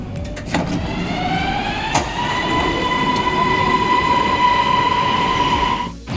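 A Bangkok MRT Blue Line metro train runs at an underground station, its motor whine rising steadily over a loud, continuous rumble of wheels on rails.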